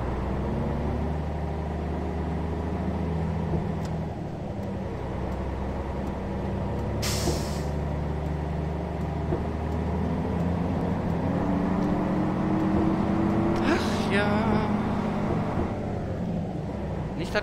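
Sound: bus pulling away in first gear, OMSI 2 video game

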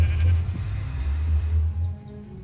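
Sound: sheep bleating in a video game

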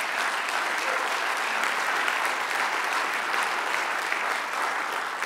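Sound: congregation applauding in church

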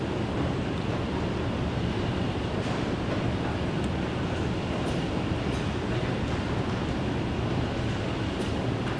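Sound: Alstom C751A SBS Transit train arriving at station

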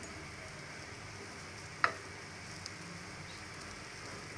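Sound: pendalam yam fry sizzling in a pan

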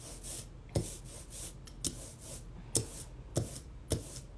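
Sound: brayer rolling through block printing ink

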